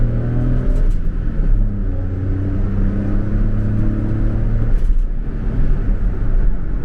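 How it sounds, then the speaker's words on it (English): A Daihatsu Cuore L701, an old small Japanese car, accelerating while overtaking and shifting gears without the clutch; a loud, close engine drone with a brief dip in pitch at the shift, and no talking. "We can try our clutchless gear shift."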